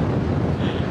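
Wind buffeting a microphone high up in a Paris stadium, a loud, continuous rumbling roar with no voices.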